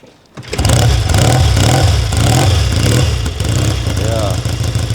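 A 1971 Triumph T100C Trophy 500cc motorcycle engine catches after a kick-start and revs loudly and close, the throttle rising and falling in uneven surges that fill the clip.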